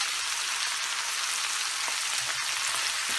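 Tomatoes, spices, seeds and cumin crackle in hot oil in a pan over a full flame, a steady dense sizzle that runs unbroken from start to finish at close range, with no voices.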